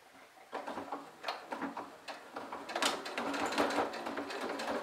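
Home sewing machine stitching fabric piping around a handmade travel bag, running in short bursts that build into a steadier, faster whir of rapid needle clatter, close and moderately loud.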